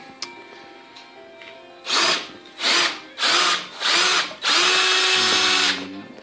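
A power drill whirs in five bursts, each rising and stopping, the last one held longest, close and loud, drilling a dimple for a bolt on a homemade post hole digger auger for a backhoe.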